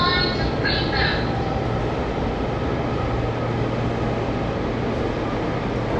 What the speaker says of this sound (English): All right, so we are here on the train.